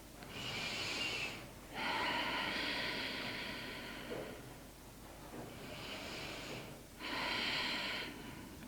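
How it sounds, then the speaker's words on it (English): Deep yoga breaths drawn in and pushed out in steady cycles, each a broad breathy whoosh lasting a couple of seconds. Four breaths sound close and clear against a quiet background. "taking a few deep breaths"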